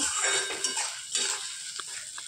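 Onions frying with panch phoron and sugar in a pan for Bengali mutton curry, a steady close sizzle broken by short scrapes and clinks of a spatula stirring, with no talk.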